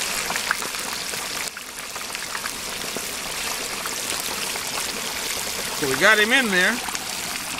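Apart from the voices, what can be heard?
whole turkey deep frying in hot oil, water bubbling off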